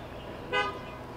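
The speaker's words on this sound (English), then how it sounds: "Honk your horn if you know Salmon Chase." A single short car horn toot sounds at an outdoor drive-in church service, a brief moderate honk over steady background noise.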